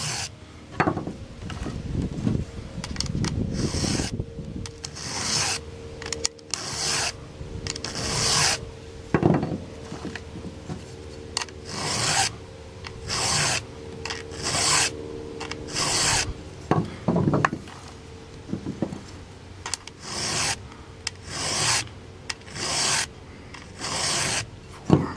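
A file rasps steadily back and forth across the cutters of a Jonsered chainsaw chain during sharpening, close and loud in repeated stroke bursts with brief pauses between sets, no talking.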